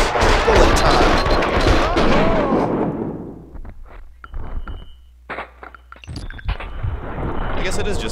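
Max Payne 2 bullet-time shooting: a dense, loud barrage of gunfire and blasts that fades into sparse, slowed shots and metallic hits before the action swells again.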